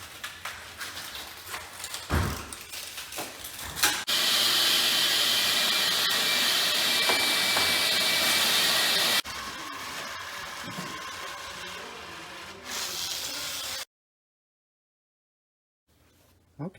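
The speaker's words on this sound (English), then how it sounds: "Gave it a quick vacuum out since there's glass everywhere" Vacuum cleaner sucking up broken glass from inside a Range Rover after its back window was smashed, a steady loud hissing roar that runs for several seconds, changes pitch, then cuts off into silence.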